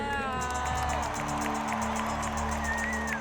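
A large arena concert crowd cheers and applauds steadily in a dense, continuous roar, with sustained music tones and a voice over the noise.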